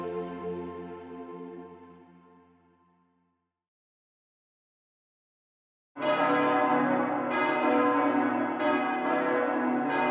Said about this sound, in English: a symphony of bells ring out from above.